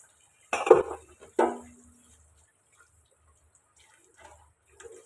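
Dishes, pots and cutlery being washed during a morning kitchen chore, with two distinct clinks of utensils early on, then quieter scattered taps and faint drips, close by with no talking.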